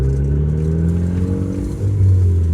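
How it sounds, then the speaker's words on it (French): A Renault Clio 4 RS Stage 3 engine revs loudly and continuously in sport mode, with a rising throttle surge near the end and faint crackling pops from the exhaust. "Ah, on entend déjà clac clac. Ça pète un peu plus."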